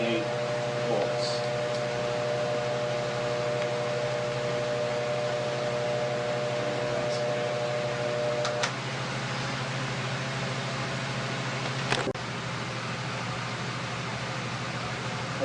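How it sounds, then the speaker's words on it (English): Induction motor driving a generator as its prime mover in a bench test, giving a steady close mechanical hum with a constant tonal drone and a few faint clicks throughout. "we were accelerating our prime mover induction motor with generator back EMF and motor power"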